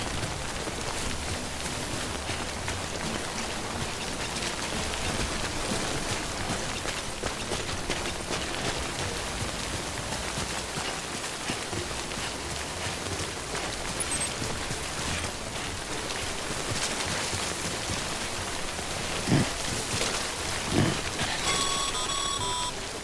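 Steady, dense rainfall in a video game, a continuous hiss of drops with no talk, broken near the end by a couple of faint brief knocks and a few thin electronic tones.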